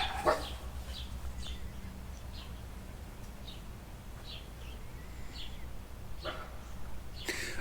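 A dog barks in the distance, a scattering of short faint barks spread irregularly over a quiet background, with no speech.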